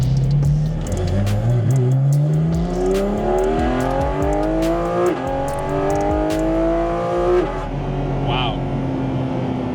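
A 2023 Porsche 718 Cayman GT4 RS engine revs hard while driving, its rising and falling tone climbing through gear pulls with brief shift dips, loud and close, with a voice talking over it.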